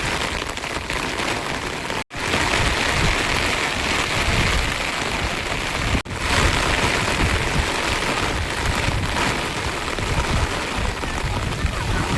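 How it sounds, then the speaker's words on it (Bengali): Heavy rain pours down in a dense, loud, continuous hiss, briefly dropping out twice. "বৃষ্টিটা খুব জোরেই এসেছে এখন"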